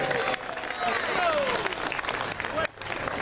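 An audience claps and cheers in a short burst of applause, with crowd noise and voices mixed in, holding fairly steady before briefly dipping near the end.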